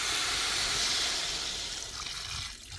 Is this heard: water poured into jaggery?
yes